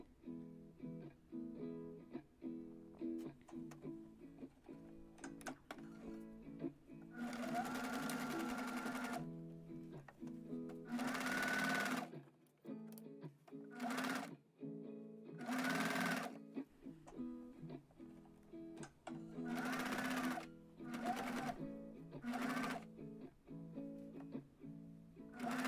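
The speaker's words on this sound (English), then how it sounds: "So this is just me sewing down the sides of the sleeves and the sides of the top down." A sewing machine stitches down the sleeve and side seams of a dress made from bedsheets, running in several bursts of steady whirring with short pauses between them, close and fairly quiet.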